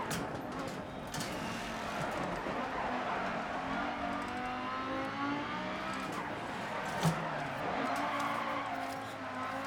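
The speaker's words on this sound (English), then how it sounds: "that 5-cylinder sound" A 5-cylinder rally car in DiRT 4 revs and slides with tire skids and a rising, wavering engine drone. The sound is continuous and fairly distant, with a faint voice present underneath.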